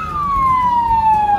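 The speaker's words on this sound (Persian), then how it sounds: "ببینید این آمبولانسه" An ambulance siren on an Istanbul street wails loudly and nearby in a single falling tone over a low rumble of traffic.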